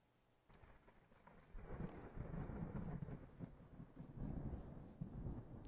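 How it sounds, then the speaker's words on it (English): Thunder from lightning in the Minecraft Nuzlocke UHC game: after a quiet start, a loud, deep rumbling roll swells and keeps booming with rain-like hiss, no voices over it. "I need to watch out for this death lightning"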